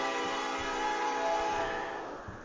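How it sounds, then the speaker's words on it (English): A train rolls steadily past, a dense continuous rumble with a sustained tonal hum riding over it throughout, loud and close, swelling slightly midway before easing off slightly toward the end; no voices. "There's a literal train going by."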